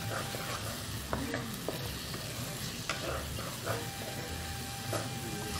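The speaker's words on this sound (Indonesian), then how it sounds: "tuangkan jamur yang Kyoko ini yang sudah dipotong kecil-kecil. Tumis lagi." Chopped mushrooms stir-fry in a pan with a steady, close sizzle, broken by occasional clicks and scrapes of a utensil stirring.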